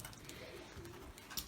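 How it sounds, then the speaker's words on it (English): Soft, low pigeon cooing drifts through the empty rooms of a derelict primary school awaiting demolition, faint and distant beneath a hissy, echoing background. "there's live pigeons in here as well"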